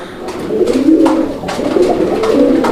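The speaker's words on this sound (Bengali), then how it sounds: "কবুতরগুলো দেখেন এই যে নর ডাকতেছে দেখছেন" Close, loud cooing of a male magpie pigeon in repeated low, throaty phrases with a rolling rhythm, continuing throughout without talk.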